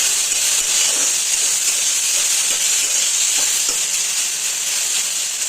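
Okra (bhindi) sizzling loudly in a pan, a dense, continuous frying hiss with soft scraping and knocks as it is stirred every so often, no talking.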